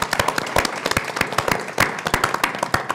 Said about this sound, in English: Everyone give Michael a round of applause